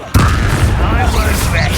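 A loud, booming Bombarda spell explosion from the Hogwarts Legacy video game bursts in sharply and rumbles on heavily for under two seconds, with a voice calling out over it.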